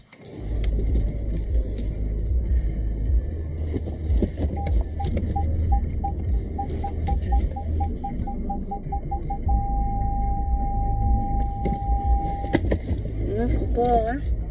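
A car engine idles and rumbles steadily while the driver parks, with a run of rapid warning beeps that turns into one continuous tone, and a person talking over the engine noise.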